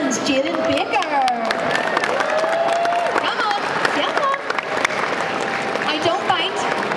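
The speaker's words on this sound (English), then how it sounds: "lots of applause for this fabulous Edward Scissorhands Jaden Baker" At Liverpool Comic Con 2019, a crowd claps steadily for a child in an Edward Scissorhands costume. Cheers and a busy hubbub of voices mix in, and a person talks over the applause.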